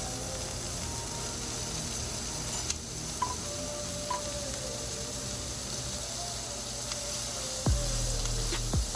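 Peppers and onions frying in butter give off a steady, moderate sizzle, with a few light clatters of utensils and a short thump near the end.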